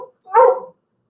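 A single dog gives one rough bark outdoors, a fairly loud burst lasting about half a second after a brief faint sound, with silence around it.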